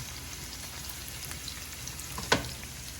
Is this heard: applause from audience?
no